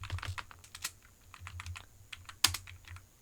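Keystrokes on a computer keyboard entering shortcut combinations, a close, irregular run of light clicks and taps with one sharper press near the end, alone without talk.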